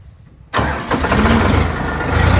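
A Sonalika tractor engine is cranked with its electric self-starter, a short quiet lead-in followed by the sudden loud catch and roar of the engine firing up and settling into a running rumble close by.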